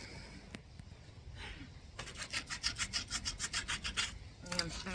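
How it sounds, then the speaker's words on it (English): Hard scrubbing on a DIY popsicle sign to rub glitter off, a close, rhythmic rasping stroke repeated about a dozen times in quick succession after a few scattered scrapes. "I am scrubbing this in pretty hard."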